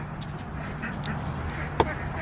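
Ducks feeding on the outskirts of a chicken flock, with soft, scattered quacks over a steady low background hum and a single sharper quack near the end.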